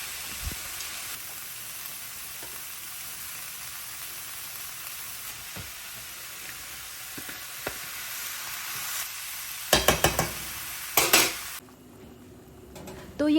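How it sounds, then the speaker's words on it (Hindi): Frozen peas and spices sizzling and frying in a pan for peanut kadhi, with a steady close hiss, occasional spoon stirring taps, and a cluster of louder metal clanks of utensils against the pan near the end. "नमक डालकर इसको अच्छे से फ्राई करूँगी।"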